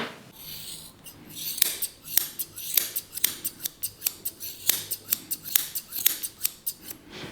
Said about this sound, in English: Today I think I might start by trimming his ears.